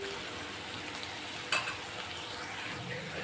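Onion sautés in a pan until golden brown, giving a faint, even sizzle. A single clank of a stirring utensil sounds partway through.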